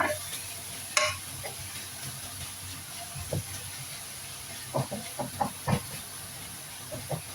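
Carrots are added to a hot pan for Arabic macaroni bechamel and stirred, a steady sizzle under clusters of utensil scrapes and clinks that grow busier toward the end.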